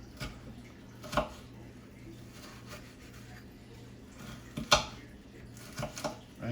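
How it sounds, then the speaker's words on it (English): A knife chops a pepper on a kitchen cutting board, giving a few soft, sparse taps and scrapes, with a sharper knock near the end, quiet against a low background hum. "And then cut up my pepper."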